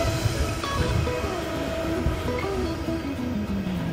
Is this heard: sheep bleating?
no